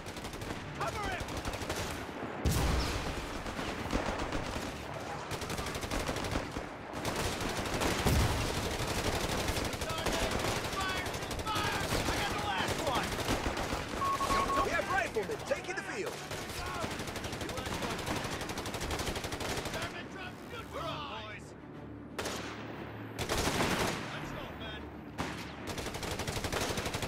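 Company of Heroes 3 beach landing battle with sustained machine-gun and rifle fire, rapid overlapping bursts rattling almost nonstop for nearly half a minute, mixed with battlefield clamor and occasional voices.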